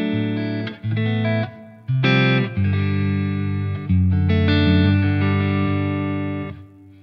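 An electric guitar plays chords and notes through a ZUTA LA25 MKII preamp with its bright control raised and a little reverb, giving a close, loud tone in several strummed phrases with short gaps between them.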